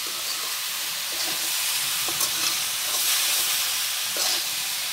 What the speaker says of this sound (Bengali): বাঁধাকপি ভাজিটা দেখেন আমার প্রায় হয়ে গেছে, আর একটু ভাজা ভাজা হয়ে গেলে নামিয়ে ফেলবো।